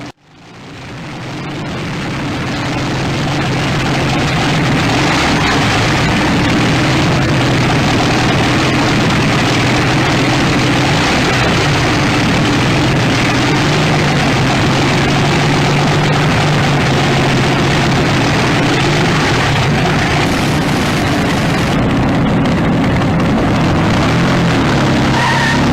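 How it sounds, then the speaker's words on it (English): A Bentley car fitted with a 42-liter Packard engine runs steadily and loudly at close range, a deep continuous low rumble with a rough mechanical roar on top and no talking. "Bentley with a 42-liter Packard engine"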